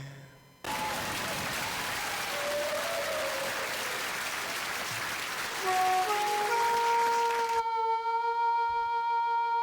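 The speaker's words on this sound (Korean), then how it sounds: "여러분 큰 박수 주시면 대단히 고맙겠습니다" Studio audience at a televised Korean trot music show applauding loudly and steadily for several seconds, a broad even wash of clapping that cuts off abruptly as sustained instrumental tones take over.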